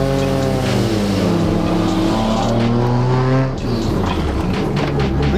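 A Mazda Miata engine running loud and close with a steady, rich rumble and a smooth rise in pitch, a brief dip near the middle, then a continued drone.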